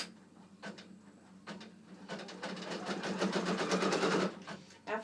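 Brother PRS 100 embroidery machine stitching, with a steady low motor hum and rapid needle clatter that builds from about two seconds, runs for roughly two seconds, then stops, with brief handling knocks before it.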